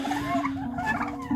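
White broad-breasted turkeys gobble and chatter close by, a tonal warbling call running throughout with a brief louder burst near the end, no human speech.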